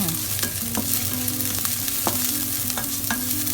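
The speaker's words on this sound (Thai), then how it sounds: "ผัดให้หอมใหญ่สุกใสแบบนี้นะคะ" Oil sizzles steadily in a pan as onions fry, with intermittent scraping and stirring clicks from a utensil throughout.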